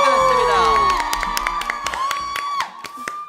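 A studio audience of fans at an idol variety show bursts into loud cheering, shouting and clapping that stays close and dense, with excited high voices throughout.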